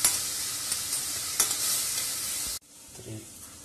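Onion fries in a pan for chole, giving a loud, close sizzle with stirring scrapes that cuts off abruptly, leaving a faint, quieter tail. There is no talking.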